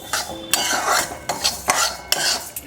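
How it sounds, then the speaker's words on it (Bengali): Moong dal is dry-fried and stirred nonstop in a hot wok, giving rapid rattling scrapes of a metal spoon and sliding grains in a quick, loud rhythm close by. "অনবরত নাড়তে হবে কেন কি মুগ ডালটা যেন অতিরিক্ত লাল হয়ে পুড়ে না যায় মুগ ডালটা ভেজে নিচ্ছি"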